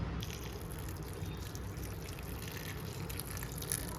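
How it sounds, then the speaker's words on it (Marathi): Water poured into a pan of cluster beans (guar) for a curry: a steady, continuous pouring and trickling wash that runs unbroken from start to finish, moderately loud and close, with no talk. "आता ह्या गवारीमध्ये पाणी ॲड करून घेऊयात आपण"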